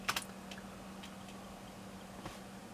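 Keys clack on an IBM Aptiva computer keyboard while a command is entered during Windows 95 setup, with a quick pair of clicks followed by a few sparse, faint keystrokes over a quiet hum.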